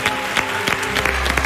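Audience clapping for a singer at a talent show final, a dense, steady applause with faint background music tones running underneath.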